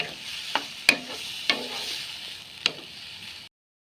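Ghee sizzling in a pan while food is stirred and sautéed for pineapple payasam, a soft continuous fry broken by a few sharp scraping clicks of the spoon, close and without speech before abrupt silence.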